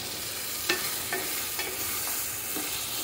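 Beans, potatoes and carrots being stirred with masala in a pot for vegetable biryani: a soft continuous sizzle with several distinct scraping stir strokes at irregular intervals, and no voices.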